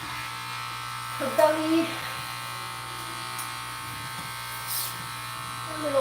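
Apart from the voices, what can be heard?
electric clippers shaving a dog during grooming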